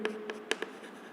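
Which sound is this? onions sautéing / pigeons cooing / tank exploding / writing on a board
writing on a board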